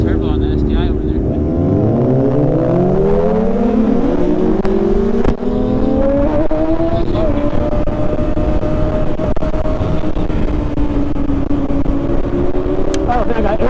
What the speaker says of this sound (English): Here's the turbo on the STI over there